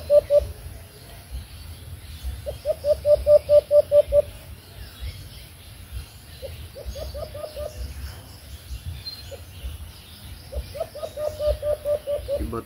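A decoy bird used to lure other birds for hunting calls in repeated bursts of rapid, evenly spaced high notes, several runs separated by pauses, close and clear over a faint rustling background.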